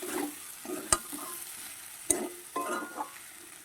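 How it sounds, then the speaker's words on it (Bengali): Sesame seeds sautéing in a pan with potatoes and onions, a soft steady sizzle with two sharp clinks of a spoon against the pan and some stirring scrapes, close by and without talk. "তিলটা দেওয়ার পর কিন্তু আমি কিছুক্ষণ একটু মানে কষিয়ে নেবো আলু আর পেঁয়াজের সাথে"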